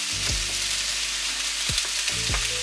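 Chickpeas, potatoes and curry sizzle steadily in hot coconut oil, with a few soft scrapes of stirring breaking through the constant fry.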